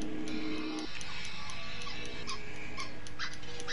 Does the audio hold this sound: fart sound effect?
no